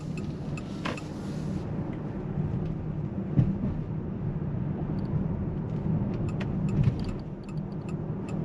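Interior of a 2024 Mitsubishi Outlander PHEV VRX accelerating on a motorway, a steady low road and drivetrain rumble with faint ticking clicks over it, continuous and moderately quiet.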